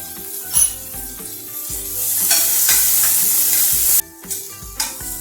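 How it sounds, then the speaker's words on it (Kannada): Chopped onions and green chillies fry in a pan with a steady sizzle, punctuated by spoon stirs and occasional clinks against the metal. "ಈರುಳ್ಳಿ ಮೆಣಸಿನ್ಕಾಯನ್ನೆಲ್ಲ ಸಾಫ್ಟಾಗಿ ಫ್ರೈ ಮಾಡ್ಕೊಳ್ಳಿ."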